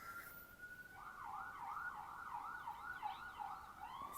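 A distant emergency siren wailing up and down steadily, faint against a low background hum.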